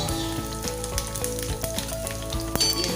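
Cumin seeds and garlic cloves hit hot oil in a pan that already holds frying chillies, giving a dense, steady sizzle with crackling pops and occasional stirring clinks, close and with no one talking.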